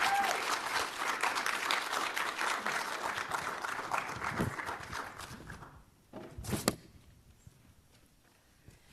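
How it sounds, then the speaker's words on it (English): An audience at a campus teach-in at Harvard applauds a speaker, a thick, even round of clapping that holds for about six seconds before cutting off sharply, leaving a quiet room with a brief bump of movement. "Please, a round for applause for Michael Anzara."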